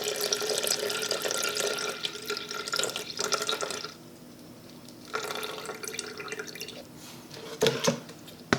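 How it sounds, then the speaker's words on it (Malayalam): Buttermilk is poured off freshly churned homemade butter, a trickling, splashing liquid stream with dripping that comes in several bursts separated by quieter pauses. "അതായത് ബട്ടർ മിൽക്ക് മാത്രം മാറ്റാം."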